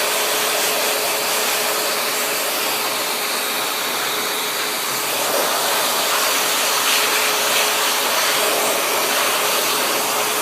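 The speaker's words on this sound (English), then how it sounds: "With a dryer like this, you want to keep the dryer back a little bit." A hair dryer blows continuously on a cat being groomed, with a loud, steady airy roar and hiss, unchanging for the whole stretch.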